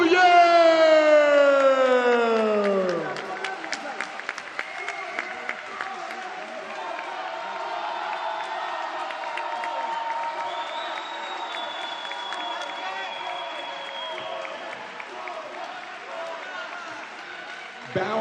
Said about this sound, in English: Give it up for Djaï Bouyeure!